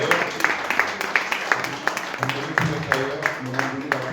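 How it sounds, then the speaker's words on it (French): Church congregation at an Easter convention applauding, a steady patter of many hands clapping for a few seconds with a murmur of voices and some background music underneath. "Vous pouvez vous applaudir."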